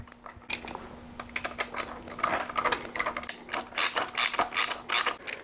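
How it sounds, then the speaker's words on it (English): A ratchet wrench clicks in quick bursts while tightening bolts on a Jeep CJ5 engine during a rebuild, the sharp metallic ratcheting loud and close, with short pauses between strokes and no talking. "we got that torqued to factory specs"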